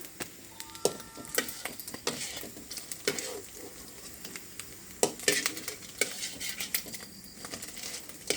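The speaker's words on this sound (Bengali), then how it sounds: "এখন আমরা এইভাবে বাকিগুলো ভেজে নিব।" Egg-dipped bread slices fry in a pan with a steady sizzle, broken by frequent sharp clinks and scrapes of a utensil against the pan. No one speaks.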